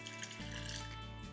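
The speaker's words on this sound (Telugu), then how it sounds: "నీళ్లు పోసేసి" Water poured into a container during home ghee making, a steady continuous pouring flow with low gurgle, close and fairly quiet, with no talk.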